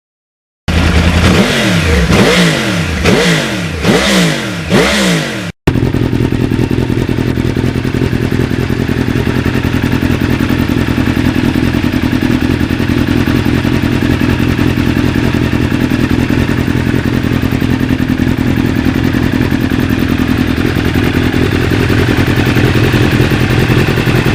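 A Yamaha MT09 motorcycle engine revs hard in several quick, loud bursts, then drops into a steady, continuous running roar that holds to the end.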